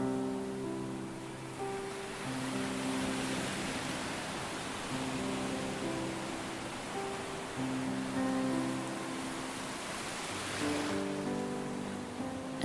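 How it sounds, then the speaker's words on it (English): Ocean waves washing onto a beach at sunset, a steady broad surf hiss rolling on throughout, heard beneath sustained soft music tones. "You and the angel sit down on the beach as you listen to the waves and watch the sunset."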